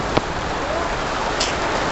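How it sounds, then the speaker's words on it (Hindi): Heavy rain falling in Hardoi City, a dense, steady hiss of downpour that fills the whole stretch, with a brief knock near the start. "बारिश और तेज होती जा रही होती जा रही होती जा रही"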